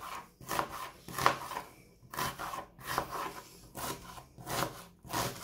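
Onion chopped finely with a knife on a board, a series of close, crisp cutting strokes in uneven bursts of about one per half second, with brief pauses between groups.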